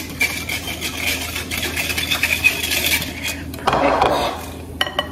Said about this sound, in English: gonna get my whisk, stir that in with our yeast